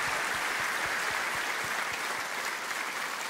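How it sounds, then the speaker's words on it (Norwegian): An audience at a Rockheim Hall of Fame induction in Norway claps steadily. The applause is dense and sustained, fills the room from start to finish and carries no other sounds. "jeg vil gi en applaus for han"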